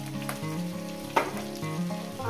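Whole potatoes fry in a pan with a soft, steady sizzle and one sharp clack partway through, heard close beneath steady tonal background music.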